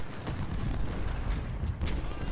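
Cannon fire from Ultimate General: Civil War during the Second Bull Run battle, heard as a dense, continuous rumble of booming artillery with overlapping distant blasts and no clear gaps.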